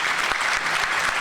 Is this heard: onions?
no